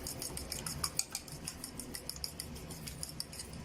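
Two broken eggs being whisked in a bowl for chicken gola kabab, a quick steady run of light clinking and tapping strokes, close and fairly quiet, with no talking.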